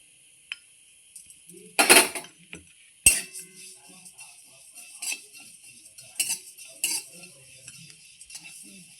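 Mustard seeds and gram flour are dry-roasted in a pan, with sparse close scrapes and clanks of a spoon against the metal, one sharp knock, and soft rustling stirs between, with no talking.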